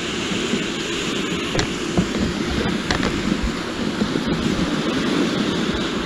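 Sea waves at Ambalangoda beach, where fishermen carry boats onto the shore, heard as a constant loud wash of surf mixed with heavy wind noise, with a few faint clicks.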